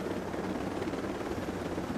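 Steady helicopter rotor drone in the video game Tom Clancy's Ghost Recon Breakpoint, a continuous low whirring hum that stays even and unbroken throughout.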